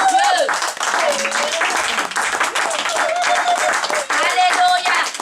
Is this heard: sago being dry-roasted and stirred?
no